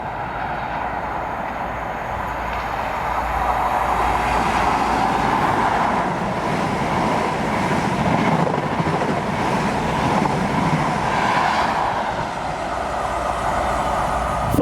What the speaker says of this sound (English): next one through is an HST for Virgin Trains East Coast